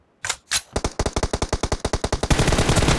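Video game gunfire in a team deathmatch: two heavy shots, then a rapid, loud automatic burst of evenly spaced rounds that grows denser toward the end, with no voices.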